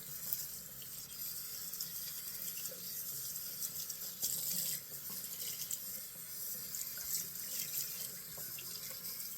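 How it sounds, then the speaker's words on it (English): A badger shaving brush is rinsed under a running tap, giving a steady hiss of water into the sink that holds even and fairly close throughout, with no talking. "I'm gonna wash out this brush."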